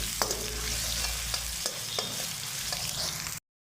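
Finely chopped onion sautés in a pan for restaurant-style palak paneer, giving a steady broadband sizzle with several sharp scraping stir strokes, close and loud, before cutting off abruptly.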